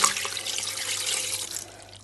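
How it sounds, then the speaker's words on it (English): Water pouring into a pot of diced onion for bitter leaf soup, a steady, fairly loud rushing splash for about two seconds that tapers off at the end. "Then I'm going to add water to it"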